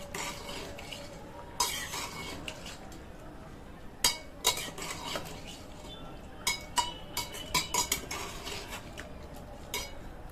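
Potato and cauliflower sabji with makke ke parathe being served onto a plate: a spoon clinks and scrapes against dishes in scattered, sharp taps over a faint background hiss.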